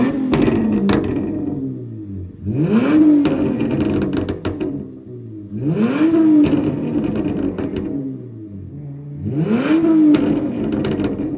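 A Chrysler 300 SRT engine is revved hard three times in a row, each rev rising and falling in pitch with crackling exhaust pops, loud and close.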